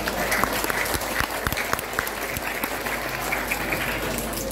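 Applause from a crowd watching a comedy dance show, with crisp individual claps over a continuous background murmur, moderately loud and steady.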